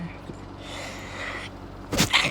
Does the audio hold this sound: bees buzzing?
no